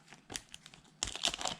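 Crinkly plastic packaging of fishing lures being opened, faint scattered crackles first, then a louder burst of crumpling and rustling close to the microphone.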